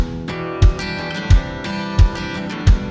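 Full band mix of kick drum, auxiliary percussion, bass and acoustic guitar, with a punchy kick landing on a steady beat under strummed guitar and bass, loud and close.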